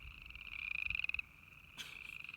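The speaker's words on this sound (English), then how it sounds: "And they're called spring peepers." Tiny spring peeper frogs calling in a chorus of high, shrill, pulsing peeps, with one rapid trilling burst and then a brief louder call over the steady high tone, fairly faint and with no talking.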